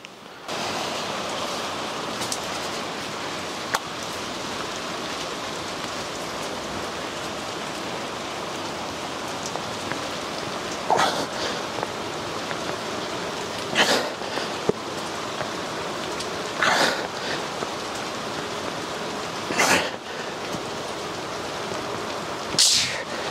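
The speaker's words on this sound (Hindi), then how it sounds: "It's raining good." Heavy rain pours steadily over a mountain village, a dense continuous hiss with scattered louder drips and splashes close by.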